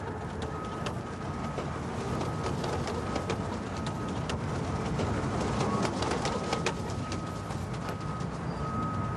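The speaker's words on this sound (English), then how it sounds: "Flying pigeons on the rooftops." Pigeons coo softly outdoors on rooftops against a steady hissing wash of background noise, with faint scattered clicks.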